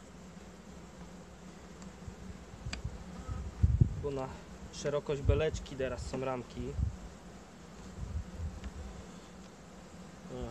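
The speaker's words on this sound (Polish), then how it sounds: "Widać, jak pszczoły reagują." Agitated honeybees buzz around an opened hive during autumn queen introduction, a steady droning hum under a man's close-up speech and handling sounds.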